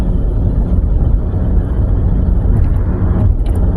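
Loud low-frequency road rumble and engine drone from inside a car cruising at highway speed, with steady tyre and wind noise and no talk, the car near 65 mph on a 70 mph road and slowing on its own.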